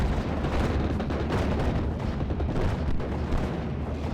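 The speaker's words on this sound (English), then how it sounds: "some off-map artillery onto the Churchill and the other units in that forest" An off-map artillery barrage pounds a forest in Steel Division: Normandy 44, a dense continuous rumble of overlapping explosions and booms, loud and unbroken throughout.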